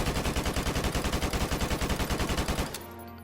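A fully automatic gun fires a rapid, steady stream of about two dozen evenly spaced loud shots in the Call of Duty video game, then stops abruptly with a short ringing tail.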